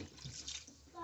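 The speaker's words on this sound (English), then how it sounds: "Add some water." Water pours into a pan of sweating peppers and onions for a Spanish bean steak, a brief, soft liquid splash and hiss with no talking.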